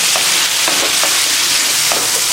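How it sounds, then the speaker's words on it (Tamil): Dried anchovies being fried and stirred into a bottle gourd curry in a pan, a loud continuous sizzle with a few soft scraping stirs, close and without any voices. "இப்போ நான் கருவாடு சேர்த்துக்கிறேன். அதுவும் கலந்துக்கலாம்."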